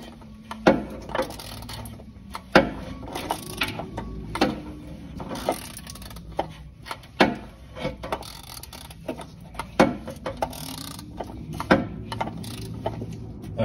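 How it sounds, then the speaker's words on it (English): An oil change tool spun and ratcheted under a Porsche GT4, repeated mechanical clicks and rattling knocks at irregular intervals, close by, with a faint background hum. "We're gonna grab the tool, slide it back up in there. And what you want to do is spin it till it stops"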